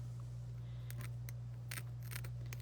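Small cuticle scissors snip at a tree stump gnome in quick, faint, dry clicks scattered over a steady low hum, a few close together and others spaced apart.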